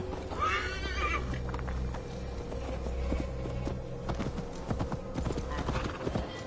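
A horse gallops with steady clip-clopping hooves and whinnies early on in Assassin's Creed Valhalla, riding through an untamed Gloucestershire forest, with faint speech underneath.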